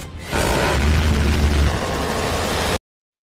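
A missile explosion in a video game, a loud broad roaring blast with heavy low rumble that holds for about two seconds and then cuts off abruptly to silence.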